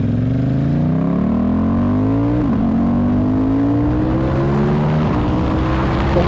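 A Ducati Diavel 1260 S motorcycle with a full system exhaust accelerates hard through the gears, a loud, close engine note rising in pitch, with two brief dips at the shifts before it climbs again.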